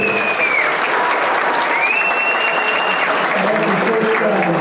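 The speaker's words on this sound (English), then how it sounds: "let's give that a round of applause real quick" A banquet audience at a high school hall of fame dinner breaks into sustained applause, a dense, even wash of many hands clapping throughout, with faint voices mixed in.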